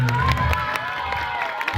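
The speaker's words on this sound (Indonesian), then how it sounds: "Tepuk tangan." An audience at a Maulid Nabi celebration near Bromo, Probolinggo cheers and claps, with children's shouts and voices mixed into a short, busy crowd burst.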